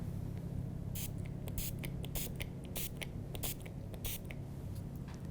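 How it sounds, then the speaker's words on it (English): A spray bottle spritzes water onto a glass for a festive still life, several quick, faint hissing sprays repeating in short bursts against a quiet background. "So just spray a bit more water."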